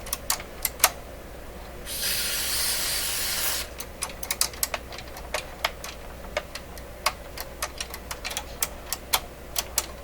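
A short burst of spray contact cleaner hisses for about a second and a half onto a control in a Nordmende 3004C radio, followed by a run of quick, light clicking ticks as the control is worked, close and without talk.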